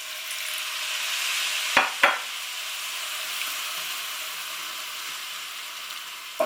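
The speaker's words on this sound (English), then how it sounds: "Give it a good stir in, and then you will see that your gravy is starting to develop." Stock stirred into a simmering vegetable pie filling gravy, a steady close sizzle and bubbling hiss with two brief sharp clinks of the spoon against the pan, no voices.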